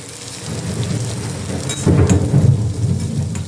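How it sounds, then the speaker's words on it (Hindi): Heavy rain pours down in a continuous hiss, with a low rumble of thunder swelling in the middle. "बाहर बहुत जोरों की बारिश हो रही है"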